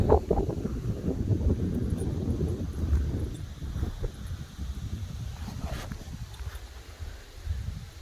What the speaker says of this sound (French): C'est venteux ce soir, c'est magnifique.